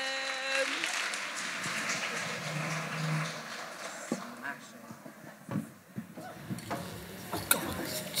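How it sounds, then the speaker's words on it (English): An audience claps at a live podcast show on mental health for mums, a broad wash of applause that fades into scattered claps while voices talk over it. "Please start clapping now."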